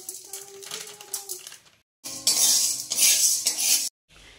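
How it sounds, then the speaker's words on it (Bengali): Sago pearls are stirred in a pan as they roast, giving scraping, rattling clatter of a spoon and the dry beads against metal in short bursts, with brief silent gaps between. "চলো সাবুটা আগে হালকা একটু গরম করে নিই"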